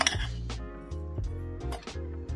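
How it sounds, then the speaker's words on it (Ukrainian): A spoon clinks repeatedly against a glass or ceramic bowl while mixing butter, cocoa, sugar and milk for chocolate glaze, bright ringing taps in an uneven rhythm, close and distinct. "Все це перемішуємо"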